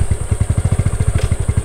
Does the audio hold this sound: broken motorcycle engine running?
yes